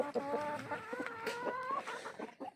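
Several roosters clucking and calling close by in a steady, overlapping chatter of short notes, with no talk over them.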